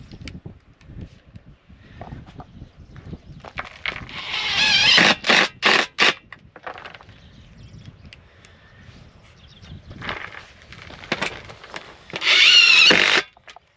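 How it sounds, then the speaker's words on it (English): A power drill drives short sheet metal screws into a steel foundation bracket for a barndominium build, heard as several brief loud bursts of whirring spaced apart with quiet gaps between them. "And then I just use short sheet metal screws to hook this together."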